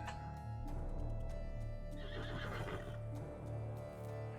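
A horse whinnies and neighs in a video game over a steady musical background, with faint clopping hooves woven in.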